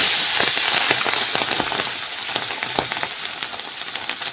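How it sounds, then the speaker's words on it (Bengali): Pabda fish coated in salt and turmeric sizzling and spattering in hot oil, a dense steady crackle with frequent sharp pops, close and fairly quiet, no voices. "তেল কিন্তু গরম হয়ে গেছে। তো লবণ হলুদ মাখানো পাবদা মাছ ছেড়ে"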